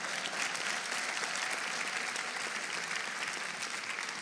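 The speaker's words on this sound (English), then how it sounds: "So please clap for my husband so he knows that he did." Steady clapping from a convention audience in a large hall, a dense, even wash of hands that keeps up at a constant level from start to finish with no talking over it.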